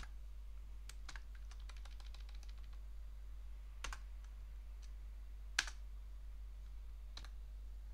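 Keys clatter on a computer keyboard in short, sparse bursts of light clicks over a low steady hum, close and faint, with isolated sharper taps between the runs.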